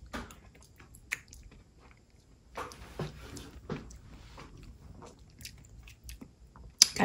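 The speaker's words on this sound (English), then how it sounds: "Got a nice crunch from the cookie crunch." Crunchy bites and chewing of caramel cookie crunch ice cream, close to the mic, with irregular crisp bites and soft mastication between them and a sharper crunch near the end.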